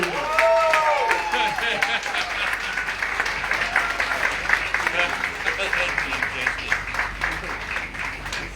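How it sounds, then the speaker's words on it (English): Audience clapping at a live book launch, steady dense applause from a small crowd throughout, with voices talking over it. "Let's clap"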